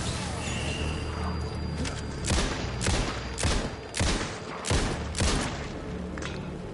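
Gunfire from the video game Alan Wake 2: a rapid run of several loud, sharp shots, close and punchy, spread over a few seconds above a steady in-game background rumble.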